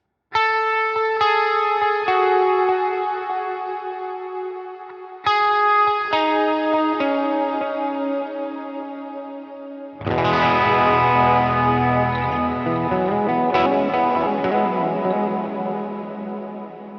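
Electric guitar through a preset with overdrive, transistor tape delay and dynamic hall reverb: sustained clean-ish chords ring out with echoing repeats, then a louder, thicker distorted passage with long reverberant tails, no talking.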